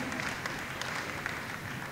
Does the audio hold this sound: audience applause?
yes